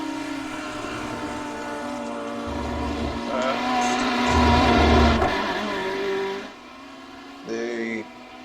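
A GT3 race car rolling down pit road at Road Atlanta during a pit stop, its engine droning and revving steadily before cutting away, with a commentator talking over it throughout.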